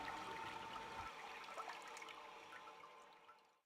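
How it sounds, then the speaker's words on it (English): A household toilet flushes with a steady rushing swirl of water that slowly fades as the bowl drains, heard alone and fairly close. "I'm going to use a typical toilet flushing motion."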